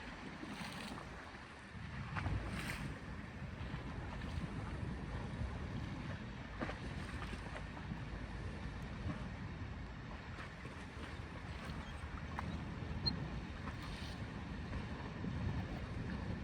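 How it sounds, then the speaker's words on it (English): Waves wash onto a beach in a steady, faint roar of surf, with softer swells and gusts of wind rising and falling throughout and no voices. "Waves are a weird sound crashing on the beach"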